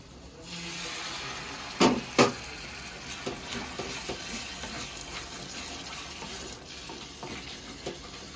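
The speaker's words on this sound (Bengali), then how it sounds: "এবারে এই চানা সেদ্ধ জলটা দিয়ে দিয়ে মশলাটাকে কষাবো।" Boiled chickpea water poured into simmering chana masala spices in a pan, giving a steady sizzle and bubbling with two sharp splashes early on, then continuous frying and stirring.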